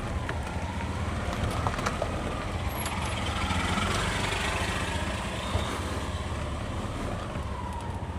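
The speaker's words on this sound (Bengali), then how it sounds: "আপনাদেরকে সিএনজি অটো রিকশার মাধ্যমে ট্রাভেলিং করে সমস্ত কিছু দেখানোর চেষ্টা করতেছি" CNG auto rickshaw driving through the streets of Beanibazar, Sylhet, Bangladesh: a steady, close engine drone with broad road and traffic noise that holds throughout, with no talking.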